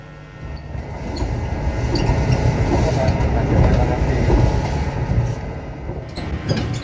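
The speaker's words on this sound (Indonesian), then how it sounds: "saat ini kereta Lodaya berlari dengan kecepatan sampai dengan 116-117 km per jam ya" Rumbling and rhythmic wheel clatter from inside the Lodaya executive express train, moving fast at around 116 km/h, loud and continuous from the carriage.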